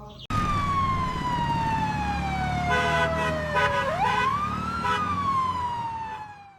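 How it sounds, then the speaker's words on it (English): Toy ambulance siren wailing loud and close, a steady electronic tone that dips and climbs in pitch, with faint rattling underneath and no talking. "Wow, this is a red ambulance."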